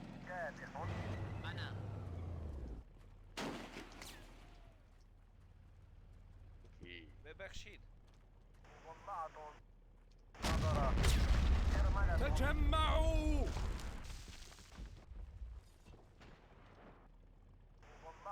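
Gunfire and exploding oil canisters at an oil refinery during the Tiyas Airbase mission of Modern Warfare: loud bursts of blasts and shots, with one sustained, roaring stretch of explosions midway, and quieter rumbling between them.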